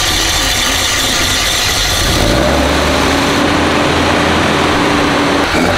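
Tuned car engine, one built around a Nissan RB25 inline-six, idling loudly nearby with a mechanical rattle, then the pitch climbs as it revs and holds a raised, droning tone.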